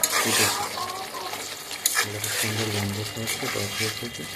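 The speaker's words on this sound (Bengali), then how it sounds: "এইভাবে আমি কষাতে থাকবো, সুন্দর গন্ধ উঠবে।" Chicken masala stir-fried in a wok, with a steady sizzle and repeated scraping stirs of the spatula against the metal, close up, while a voice talks over it.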